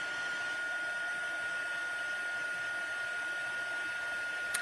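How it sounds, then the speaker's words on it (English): An embossing heat tool blows hot air while melting embossing powder on paper, producing a loud, constant whirring hiss with a steady high whine throughout. "And since this heat tool is so hot, this is melting really, really fast"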